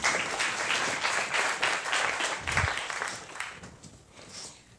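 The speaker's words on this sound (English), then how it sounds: "Please give her a round of applause." Audience applause at a NUI Galway Threesis event, many people clapping briskly and loudly, holding steady and then tapering off toward the end, with no speech over it.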